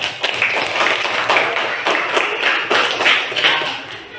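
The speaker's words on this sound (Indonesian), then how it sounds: "beri tepukan" Children clapping together in a classroom, a brisk burst of hand claps with rhythmic pulses that rise and fall, moderately loud and close, with no talking over it.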